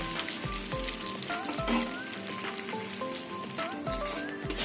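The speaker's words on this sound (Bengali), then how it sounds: "বেগুন ভাজা হয়ে গেছে, বেগুনগুলো তুলে নেব।" Eggplant slices fry in hot oil with a steady, crackling sizzle and a few soft clinks from stirring, fairly quiet and heard alone.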